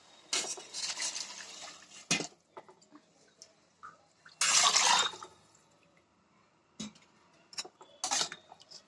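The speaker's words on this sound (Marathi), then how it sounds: "आता ह्याच्यात एक लिटर आपण पाणी घालू" Water is poured from a measured litre into a pot of rinsed rice for masala bhaat. It comes as a few short splashing bursts, with clinks of the vessel against the pot and quiet pauses between, close up and fairly soft.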